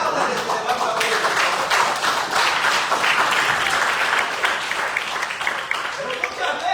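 A church congregation applauding together, a dense, steady wash of clapping that holds loud and even throughout without a break.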